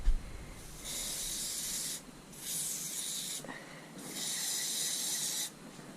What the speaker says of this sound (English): This is a Super Hold Salon hairspray.